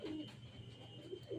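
Pigeon cooing in low, soft bursts while being fed by hand, with a few repeated coos close by over a steady background hum.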